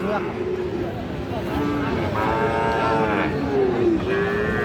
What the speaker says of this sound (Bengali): এইটা একটা ফ্রিজিয়ান জাতের সার বাছুর